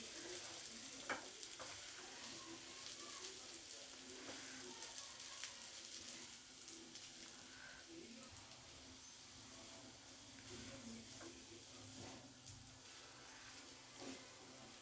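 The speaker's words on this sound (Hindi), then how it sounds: "और अब हम इसमें ये आलू की पिट्ठी डाल देंगे और इसको मैश कर देंगे।" Potato filling with onion sizzles and fries steadily in a pan, with occasional stirring scrapes, a continuous hiss throughout and no talking.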